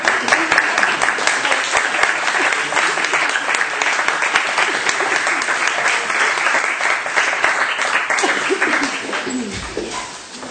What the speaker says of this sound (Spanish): No, aplaudan.